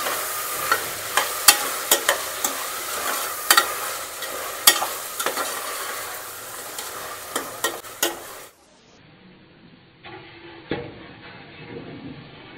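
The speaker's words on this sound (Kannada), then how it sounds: "ಸ್ವಲ್ಪ ಮಿಕ್ಸ್ ಮಾಡೋಣ." A spoon stirs vegetable pulao with turmeric and salt in a hot pan, sharp scraping strokes repeating over a continuous frying sizzle, then the sound drops to a quieter hiss.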